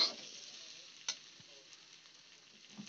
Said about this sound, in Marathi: हे असं चांगल्या प्रकारे आपल्याला भाजून घ्यायचं आहे तेलामध्ये